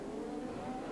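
Paul Tracy's CART race car from the 1995 Toronto round runs with its engine going, a steady, fairly quiet droning note with a slowly rising pitch and no talk over it.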